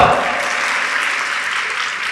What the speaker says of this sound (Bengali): ওর জন্য একটা করতালি দাও